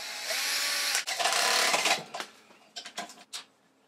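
Power tool on its slow setting turning the motor of a faulty air compressor through a socket adapter: a steady loud whirring drone for about two seconds, then stopping, followed by a few short bursts.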